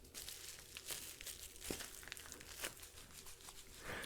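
Crinkling and crumpling of a taped, bubble-wrapped brick-shaped package being handled and shaken, close and quiet, with soft irregular crackles and a few sharper pops throughout.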